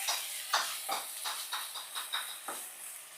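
Ginger garlic paste fries in oil for a chicken gravy, making soft, rhythmic bursts of sizzling hiss as it is stirred. The sound is fairly quiet and close, with about nine pulses in quick succession.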